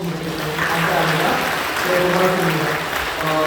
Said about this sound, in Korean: 박수로 환영해 주신 분 계십니다.